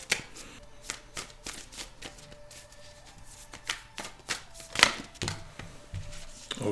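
Oracle and tarot cards being mixed by hand in a tarot reading, a string of quick close papery shuffles and slaps with uneven rhythm and a few sharper snaps, mostly alone with faint background tones.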